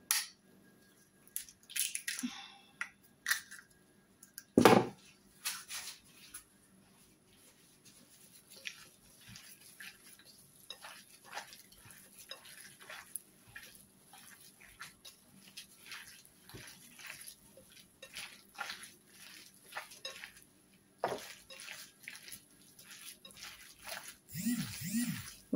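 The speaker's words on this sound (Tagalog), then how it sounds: "Masamasahin lang natin para mag-mix-mix ang mga ingredients." Meatball ingredients and egg are mixed by hand in a bowl, giving soft, intermittent squelching and sticky wet smacks at close range, quiet with gaps and occasional louder knocks.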